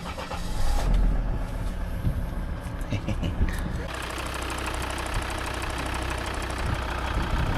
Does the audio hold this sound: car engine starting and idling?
yes